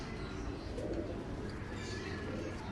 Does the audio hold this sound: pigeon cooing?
yes